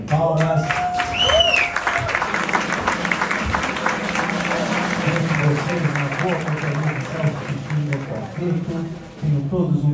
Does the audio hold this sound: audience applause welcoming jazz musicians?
yes